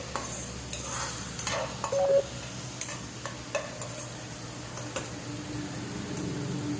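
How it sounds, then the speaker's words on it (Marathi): Prawn chutney with coriander and kokum sautéing in a pan gives a steady, close sizzle, broken by scattered clicks and scrapes of stirring, with no talking. "थोडंसं परतवत राहायचं।"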